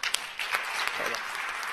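A conference crowd claps steadily, dense and lively applause with a few sharper claps standing out, no voices over it.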